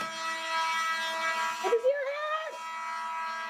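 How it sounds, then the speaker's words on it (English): A fire alarm rings in a building inside a video game: a steady, loud electronic buzzing tone with stacked harmonics that runs the whole time, with a voice talking over it partway through. "Dude, that alarm is insane."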